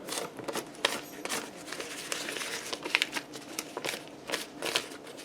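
A fork scrapes cut pieces of butter off paper for biscuits, producing a rapid crinkling, scratchy patter of short bursts that continues irregularly, close up, no talking.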